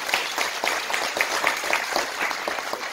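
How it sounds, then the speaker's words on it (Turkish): University career-day audience applauding the Bandırma Spor team, a moderately loud burst of clapping with individual claps standing out in a loose rhythm throughout. "bir Bandırma Spor'a bir final alkışı yapın bakalım."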